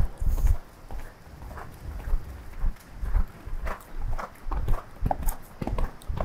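A horse walks with soft, rhythmic hoof clops on a ground surface, steady and close, with no talk over the footfalls.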